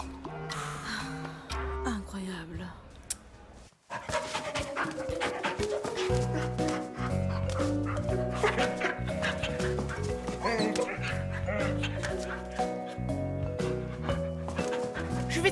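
A labrador dog barks and whimpers against a full musical backing, its yips and whines scattered over the music at a moderate level.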